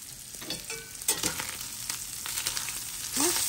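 Sausage sizzling in a frying pan for breakfast casseroles, a soft, close crackle with a few sharp spits and stirring bursts.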